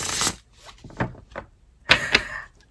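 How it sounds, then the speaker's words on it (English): A deck of cards shuffled by hand: a burst of riffling followed by scattered soft taps and two sharp riffles close up, with pauses between. "I shuffled."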